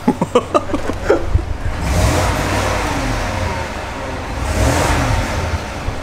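A car engine revs up as the throttle is pressed, rising into a sustained mid-pitched roar that swells twice, preceded by a few short clicks or blips at the start.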